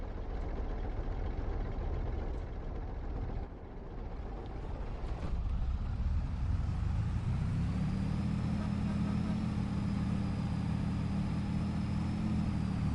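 Struggling truck engines in the game Farming Simulator 22, a steady low rumbling drone that swells to a heavier, louder hum partway through, continuous and close, with no voices.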